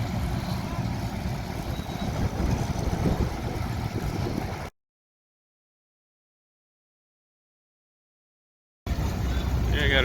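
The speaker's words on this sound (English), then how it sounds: "They just fired up the engine on the case." A vintage Case tractor engine runs at a harvest show, a low, steady rumble with voices nearby; the sound cuts out completely for several seconds midway before resuming.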